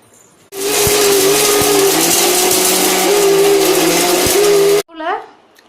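A kitchen mixer grinder whirs loudly and continuously for several seconds grinding spices into powder, then cuts off abruptly; a voice speaks briefly afterward.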